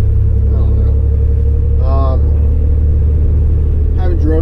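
Cabin of a 1987 Chevrolet S10 pickup with a 2.8L engine, driving: a loud, steady low engine and road rumble fills the cab throughout, with brief voice-like tonal bursts rising over it.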